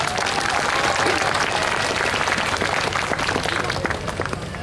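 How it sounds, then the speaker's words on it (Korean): A large audience at a Chunhyang beauty pageant bursts into sustained applause, dense loud clapping that fills the hall and fades slightly at the end. "다시 한번 큰 박수 부탁드립니다."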